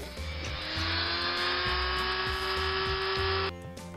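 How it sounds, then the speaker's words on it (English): A grinder fitted with a sandpaper sanding drum enlarges the wheel arch of a Matchbox Trojan van toy, a steady high-pitched whine held close for about three seconds before cutting off, over a lower background rumble. "I've got a grinder out, and I also use the sandpaper sanding drum."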